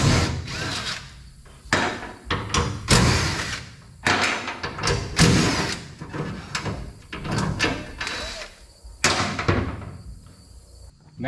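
Removing three 13 mm bolts from a Chevrolet Silverado tailgate handle with a power driver, loud close bursts of whirring broken by short pauses, with clanks and handling noise between them.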